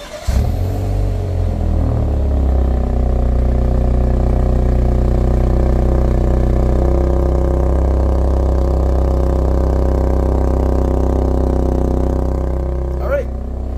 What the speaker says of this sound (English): I just want to do a remote engine start, cold start